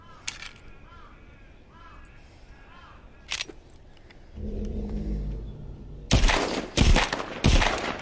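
Gunfire in The Walking Dead video game, sharp loud bursts arriving in separate clusters after a quieter stretch of ambient noise and faint calls, with a low rumbling passage just before the shots.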